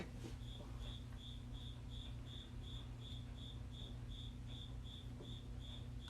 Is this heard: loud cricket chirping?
yes